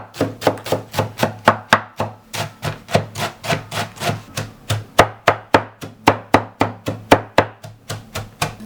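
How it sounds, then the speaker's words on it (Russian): Rapid, steady knife chops on a cutting board finely mincing herbs, dozens of crisp strikes in a quick even rhythm, close and alone. "И сейчас всю зелень нарезаем, как можно мельче"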